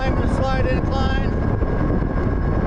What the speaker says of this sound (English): Got a lot of wind hitting me in the face right now.